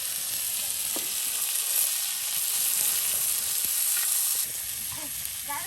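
Small puti fish fry in a pan outdoors by a riverside, giving a continuous crackling sizzle with scattered pops and occasional stirring sounds, steady and fairly loud throughout.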